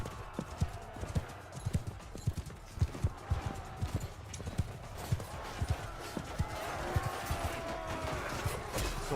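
Horses gallop in Mount & Blade II: Bannerlord, a steady rapid clip-clop of many hooves thudding close by over a busy battle din.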